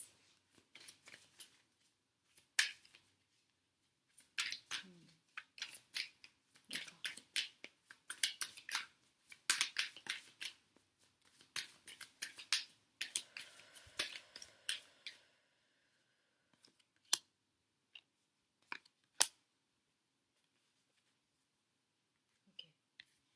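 Oracle cards being handled and shuffled, a close run of quick papery riffles and taps in bursts, then a few sparse clicks near the end.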